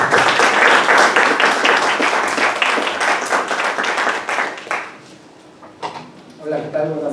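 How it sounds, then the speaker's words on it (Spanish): An audience claps loudly for a lecturer arriving to speak on addictions, a dense burst of applause that thins out and fades to a few scattered claps. "Para quien pido un fuerte aplauso"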